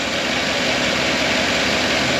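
A Chevrolet Tahoe engine idling, a loud, steady, even hum with a constant low rumble and no changes in speed, heard alone without talk.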